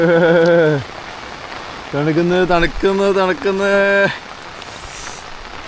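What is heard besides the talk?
heavy rain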